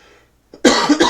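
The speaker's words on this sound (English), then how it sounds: "Again, I apologize for the coughing" A person with a sore throat coughs once, a sharp, harsh burst close to the microphone with a quick second catch at the end.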